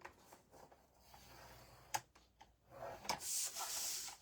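A tool scores paper craft material along its short edges with a few faint rubbing strokes and light scratches, quiet and close, ending in a slightly louder scrape.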